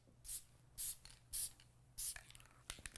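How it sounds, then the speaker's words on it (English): Four short hissing bursts from an adhesive spray can, evenly spaced about half a second apart, mist a light coat onto a printed garment transfer, close and crisp, followed by faint handling noises. "It's a special adhesive spray that's designed for the garment decoration industry."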